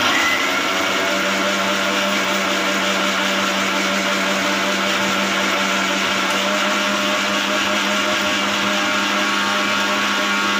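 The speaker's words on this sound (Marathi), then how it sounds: "मग त्याच्यामध्ये व मिक्सरमध्ये फिरवून घेतलं" Kitchen mixer blending mango with sugar, cardamom, nutmeg and milk, a loud continuous motor whir at a steady pitch running close up for the whole stretch, with no voices.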